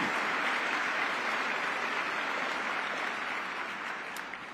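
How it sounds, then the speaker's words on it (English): At a Congressional Gold Medal ceremony, a large audience applauds with a dense, sustained roar of clapping that stays steady and fills the hall, easing slightly toward the end. "That's an applause line."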